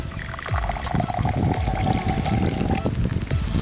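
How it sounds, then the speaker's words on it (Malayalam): Water pours into a glass already holding potassium permanganate for an elephant toothpaste experiment, a steady close filling stream that runs for about three seconds with a few small knocks. "കുറച്ച് വെള്ളം ഒഴിക്കാം."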